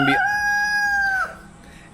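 A rooster crows once, loud and close, a sustained tonal call lasting over a second before trailing off into quiet.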